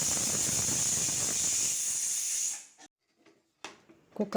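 A pressure cooker whistle releases steam in one strong, continuous hiss that cuts off sharply after a couple of seconds, followed by a few faint clicks and knocks in near silence.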